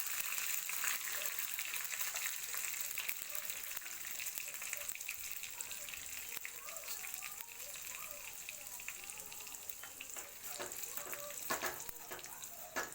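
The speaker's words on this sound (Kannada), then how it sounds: "ಇದನ್ನು ಸ್ವಲ್ಪ ಫ್ರೈ ಮಾಡ್ಕೊಳ್ಳೋಣ." Curry leaves and a pinch of asafoetida tempering in hot oil in a pan for kalakai chutney, a steady close crackling sizzle running throughout with occasional sharper pops and stirring clatter.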